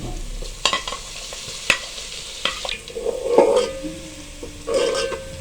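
Onions sizzling and browning in a pan for chana pulao, with a spoon scraping and stirring now and then, close up and without talking.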